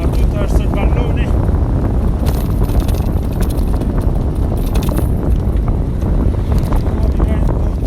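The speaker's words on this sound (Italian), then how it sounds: "Un po' di vento." Strong wind roars steadily across the microphone while cycling fast downhill through the curves near Aielli, a dense low rumble that never lets up for the whole stretch.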